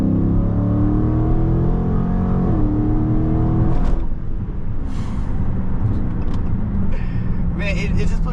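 A 2023 Dodge Charger Scat Pack Widebody accelerating hard, a loud deep engine roar that climbs and shifts, heard from inside the car with voices talking over it.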